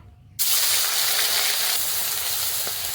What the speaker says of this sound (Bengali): চিংড়ি মাছ কটা দিয়ে দেবো গরম তেলে।